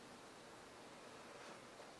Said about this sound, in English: So we have an internal pink noise generator.